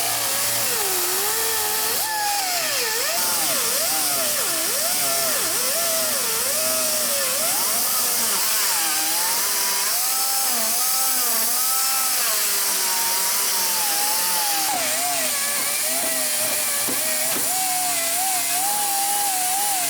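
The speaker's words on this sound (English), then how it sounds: "So we're using 60 grit on a hammer fab backer pad" A grinder fitted with a 60 grit disc on a Hammer Fab backer pad sands metal edges on a '67 Barracuda, giving a loud, continuous whirring roar whose pitch wavers as pressure shifts, with no talking.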